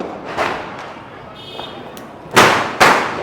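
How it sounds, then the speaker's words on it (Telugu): Onion bomb firecrackers thrown and exploding during Diwali at a new house, two sharp loud bangs in quick succession near the end, after quieter thumps, with people talking and calling out around them. "ఉల్లిగడ్డ బాంబులు కాడుస్తుంది ఇప్పుడు కొట్టు గట్టిగా"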